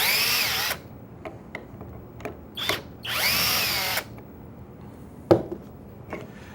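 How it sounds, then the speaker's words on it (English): Power drill backing pocket hole screws out of wood, several short whining bursts of the motor, two longer runs among them, separated by quiet gaps with a few sharp knocks, close up and with no voices. "you can easily back the screws out to disassemble a part"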